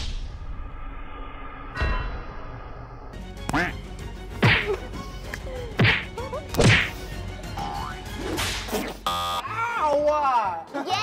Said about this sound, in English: she slapped me so hard!